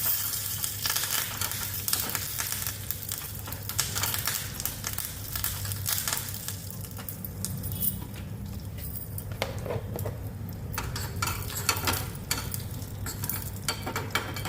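Curry leaves sizzling in a pan as they are mixed into amla (gooseberry) rasam, a continuous close frying hiss under busy stirring and scraping strokes, with no voices.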